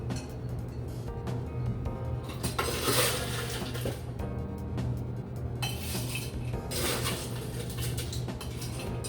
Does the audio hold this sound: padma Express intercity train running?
no